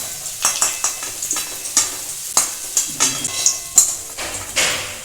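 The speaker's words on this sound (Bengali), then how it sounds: "আলুগুলো ভাজা হয়ে গেছে, এখন আমি তুলে দিচ্ছি।" Potatoes frying in hot oil in a pan while a spoon repeatedly knocks and scrapes through them, sharp rhythmic clanks over a bright steady sizzle, loud and close with no talk.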